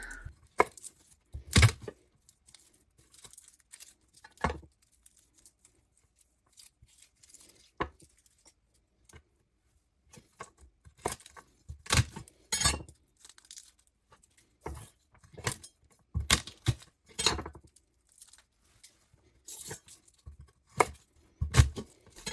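A knife blade whacks garlic cloves against a board to loosen the peels: scattered, quiet, sharp knocks and thuds with long gaps, then a denser run of hits toward the end, with no voices.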